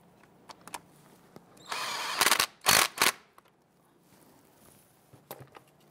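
Cordless power tool snugging down a brake caliper bolt on a 1999-2004 Jeep Grand Cherokee, several short loud whirring bursts close up between quiet clicks and handling noises.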